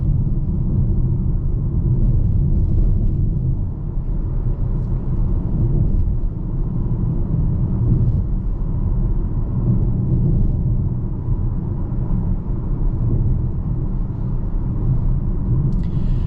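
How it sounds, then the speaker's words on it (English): A 2024 Volvo XC40 rolling over a rough road makes a constant low cabin rumble of tyre and road noise, steady and even throughout, with no speech. "going over this rough road here"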